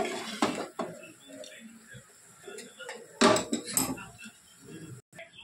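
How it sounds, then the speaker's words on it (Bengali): Maggi masala noodles stirred in a pan as the water cooks off, with intermittent clanks and scrapes of a utensil against the pan while a person talks over it. "এবার এটাকে একটু নাড়িয়ে নেব। এবার এটার মধ্যে নাড়িয়ে জল শোকাবো।"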